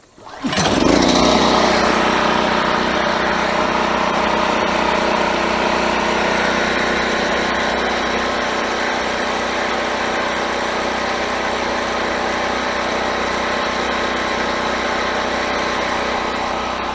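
A WEN 56225i inverter generator starts with a sharp pull and roars to life, then runs loud and steady nearby at a constant engine drone.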